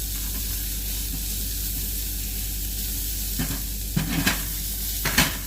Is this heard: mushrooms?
yes